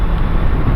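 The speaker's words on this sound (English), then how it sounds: "A lot of cars today, man." Steady road traffic with many cars passing, a continuous loud low rumble of engines and tyres filling the short moment without pause.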